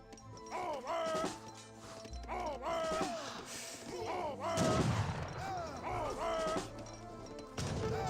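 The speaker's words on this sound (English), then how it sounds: "The Citadel is now firing away" Citadel firing in an Age of Empires 3 battle, a busy mix of gunfire cracks, thuds and crashes with repeated sharp unit cries, one heavier burst around the middle, sustained and loud.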